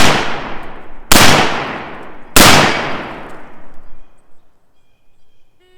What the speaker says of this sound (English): fire 3 shots from the prone position into the target in a time limit of 10 seconds